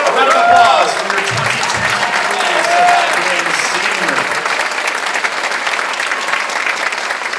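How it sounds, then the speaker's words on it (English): Audience at a high school band and orchestra concert applauds loudly and continuously for a graduating senior, with voices and cheers mixed into the dense clapping. "A round of applause for your"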